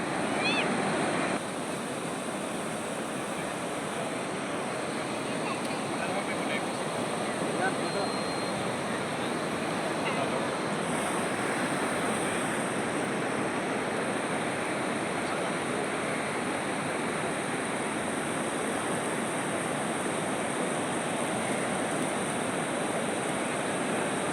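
Surf washing onto a beach after recent floods, a steady broadband roar of waves that holds evenly throughout, with faint voices underneath.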